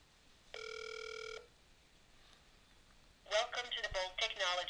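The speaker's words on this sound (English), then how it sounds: "And I'm dialing into the OpenVoice system at this point." A desk telephone on speakerphone gives a single steady tone burst, then a pause, then a rapid string of loud dialing tones close by.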